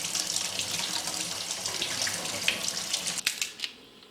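Young onions rinsed under a running kitchen tap, a steady hiss of water splashing into the sink throughout, with a few sharper splashes and clicks near the end as the flow is handled.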